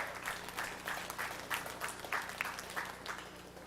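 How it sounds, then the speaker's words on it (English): A crowd applauds eight young sheep showmen at a county junior fair sheep show, a steady round of clapping with slight swells, fairly close and uninterrupted by talk. "Let's give these 8 showmen out here a big round of applause"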